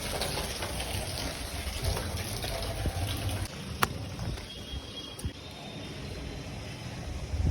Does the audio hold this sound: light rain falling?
yes